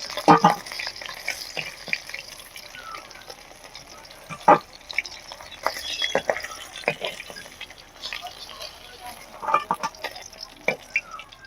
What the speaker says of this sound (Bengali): আর বাকি মাছগুলো এভাবেই আমি ভেজে নেব।